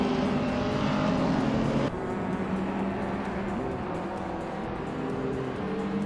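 Race cars, among them a turbocharged 1990 Lotus Carlton, roar steadily in a sustained engine drone with shifting pitch and an abrupt drop in level partway through, loud and continuous.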